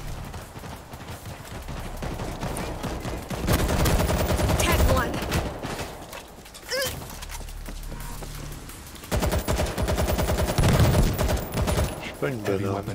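Rapid bursts of gunfire from explosive ammunition in the zombie shooter World War Z, loud and sustained with short pauses between volleys, mixed with game noise and some talk.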